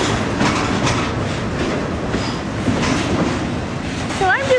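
A train rumbles and clatters loudly nearby at a station, with a brief high squeal of wheels near the end and a voice underneath.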